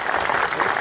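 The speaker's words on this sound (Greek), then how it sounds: "Με ένα χειροκρότημα σας, βέβαια." Audience applause at a business awards ceremony, a short dense burst of steady clapping from a seated crowd.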